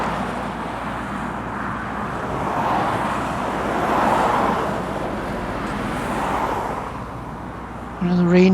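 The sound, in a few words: truck passing on the road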